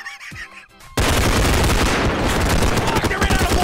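A gun in the game Bodycam fires as sustained automatic gunfire, loud and close, erupting abruptly after a brief stretch of quieter voices.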